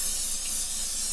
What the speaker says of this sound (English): spray when you're making an omelet